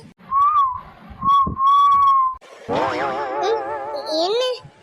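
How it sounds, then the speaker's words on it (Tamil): A person whistles a wavering tune through the lips, first in clean sustained notes, then warbling under a burst of background sound with voices nearby. "என்ன எதுக்கு இப்ப நீ விசில் அடிச்சிட்டு இருக்க?"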